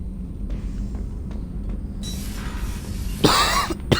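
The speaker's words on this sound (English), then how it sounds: "Oh man, I am so sorry for coughing." Low rumbling background noise gives way to a short burst of coughing close to the microphone near the end, during Mass Effect 2 gameplay.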